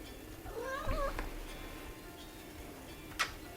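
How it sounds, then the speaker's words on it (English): A kitten meows once, close and fairly soft, with a rising then falling call in a quiet room, followed by a faint tick and a brief sharper sound. "now I have a cat joining me"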